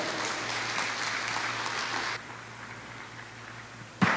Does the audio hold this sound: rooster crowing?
no